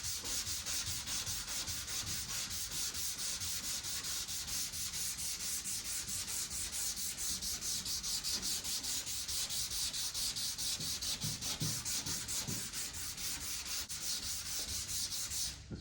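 Hand sanding of truck bodywork using a small flat block wrapped with 320-grit sandpaper, a steady rapid back-and-forth rasping that carries on without pause from start to finish, close to the mic and with no talk.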